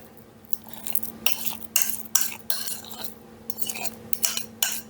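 A utensil mixes mashed banana and egg in a bowl for banana muffins, giving a series of about eight bright scraping, clinking strokes against the bowl in an uneven rhythm, close and without talk.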